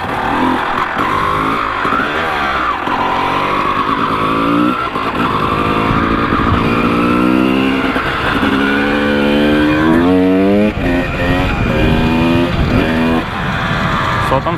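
A Honda CR250 two-stroke motorcycle rides through bushes, its engine loud and close, revving and rising in pitch over and over, with small drops between pulls.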